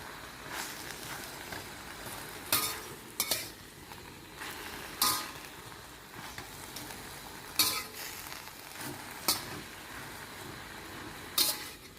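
Canna flowers stir-fried in a pan over high heat, a constant sizzle broken by sharp scraping clacks of a utensil against the pan at irregular intervals, close and clear with no talk.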